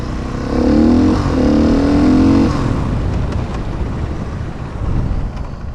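A motorcycle engine revs hard during stoppies, with two strong rising pulls close by, then settles into a rougher, lower mechanical drone as the bike slows.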